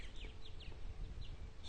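Purple martins, adults and fledglings, chirping as they fly around on a lazy summer afternoon on eastern Long Island; faint, scattered short chirps over a low rumbling background.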